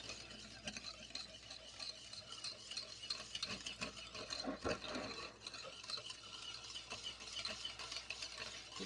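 Pistachio pudding mix is stirred in a bowl that is a little too small, giving a soft, continuous scraping and swishing at close range with a faint background hum and no talking.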